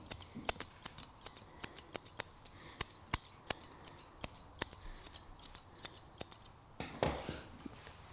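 Scissors snip through a Bichon Frisé's coat in a quick, steady rhythm, dozens of crisp metallic clicks close up, with a brief rustle near the end and no talking.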